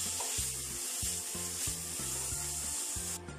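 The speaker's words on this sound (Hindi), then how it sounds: "अब इस बीटरूट को हम 3 से 4 मिनट तक अच्छे से भून लेंगे।" Beetroot frying in a pan for a sabzi with salt, a steady close sizzle broken by repeated scraping strokes of a spoon stirring through the pan, with no one talking.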